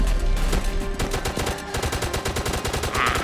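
Rapid automatic gunfire in the Roblox zombie survival game Zombie Uprising, a dense steady stream of loud repeated shots with no talking.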